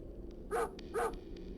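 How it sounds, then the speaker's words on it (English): Two quick barks from a dog, close together and moderately loud, over a steady low background hum. "The dog's still barking."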